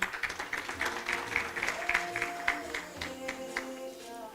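An audience at a Sacco staff ceremony claps for an honoree, a steady patter of many hands carrying on through the clip while a faint voice and tonal sounds drift underneath.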